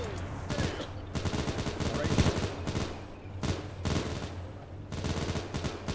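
Bursts of rifle and machine-gun fire crackle in the WW2 game Iron Front on ARMA 3, with repeated volleys and rapid staccato shots, some close and loud, others sustained, with brief gaps between them.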